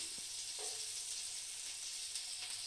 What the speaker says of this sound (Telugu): గిన్నె పెట్టుకొని నూనె పోసుకొని ఉల్లిపాయలు వేసుకొని